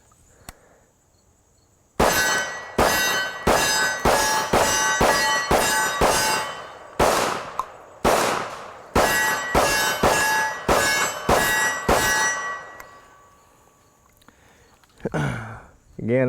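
KRISS Vector Gen II SDP pistol in .45 ACP firing a rapid string of about a dozen loud, sharp shots in close succession, followed by quiet and a brief voice at the end.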